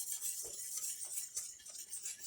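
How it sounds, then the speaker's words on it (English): Blueberry cream pie filling is stirred in a pot, a faint, soft scraping and light clinking of the spoon against the pot in an irregular rhythm. "You just keep stirring this because it will get burnt easy if you're not watching it."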